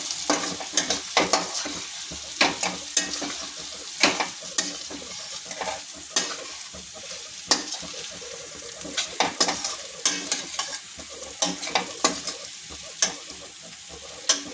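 Egg fried rice with omelette pieces being stir-fried, with a constant sizzle broken by repeated rhythmic scrapes and knocks of a spatula against the pan, close and fairly loud with no voices.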